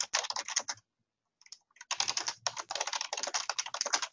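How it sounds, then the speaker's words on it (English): Rapid clattering keystrokes on a computer keyboard, close and steady, with a brief pause before the typing resumes in dense bursts. "type that in here and click on done"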